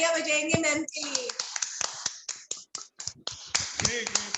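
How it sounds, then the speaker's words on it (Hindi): Scattered hand claps on a Zoom workshop call, sparse sharp taps spread across a few seconds, with people talking at the start and end. "तो एक बार फिर हम जोरदार तालियां बजाएंगे मैम के लिए।"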